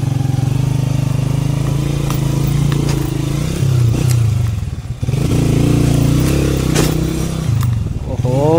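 A motorcycle on a bike tour climbs over rough, rocky hill ground near Tilla Jogian. The loud, close engine drone rises and dips as the rider works the throttle, with clattering knocks from the bumpy terrain.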